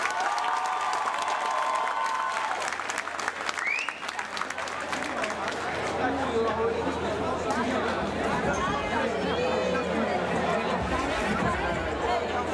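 Boxing-match audience applauding the fighters after the bout, continuous clapping mixed with crowd chatter and cheering throughout, with a voice over a loudspeaker early on and busy hubbub in the later part.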